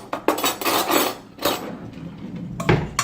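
A spoon tosses a tomato bruschetta mixture seasoned with oregano in a bowl, making close clinks, scrapes and knocks against the bowl in a few uneven bursts, with no talking.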